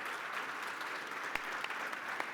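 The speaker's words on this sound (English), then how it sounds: "please, a big round of applause for Peter" Steady audience applause fills the room at a fireside chat event, a dense, even wash of many hands clapping at moderate level, with a few sharper claps standing out.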